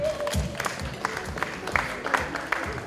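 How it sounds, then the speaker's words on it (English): A conference audience applauds the event partners at a healthcare federation gathering in East Africa, with dense clapping, a few sharper individual claps and a low crowd murmur beneath. "Give them a round of applause"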